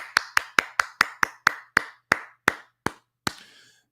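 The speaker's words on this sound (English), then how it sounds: "Hand clap." Eleven crisp hand claps, close and alone, starting quick and evenly spaced then slowing with wider gaps, the last one ringing out slightly.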